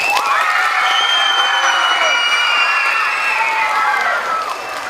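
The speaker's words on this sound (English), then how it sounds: "Those dancers are going to love it when you applaud, I promise." A children's audience at a theater performance of Alice in Wonderland cheers, whoops and claps together in a loud, sustained burst. Shrill high voices rise and fall over the noise for about five seconds, then it eases slightly near the end.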